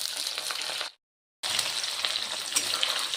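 Chopped onions and green chillies frying in a pan, a steady close sizzle broken by a short silent gap before crackling on.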